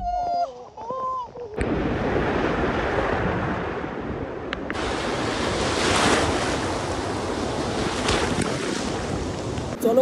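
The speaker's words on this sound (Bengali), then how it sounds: "ওই দেখো আসছে দেখো বড় স্রোতটা দেখো।" Big sea waves crash and roll onto Mandarmani beach in a loud, continuous roar of surf. Heavy wind buffets the microphone, and a quieter stretch at the start gives way to the full wash of breaking water.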